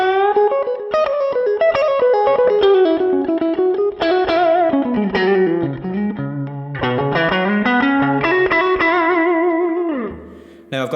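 Electric guitar through an amp preset modeled on a Fender Twin with spring reverb, playing a loud, continuous riff of bent notes and chords that rings out and fades at the end.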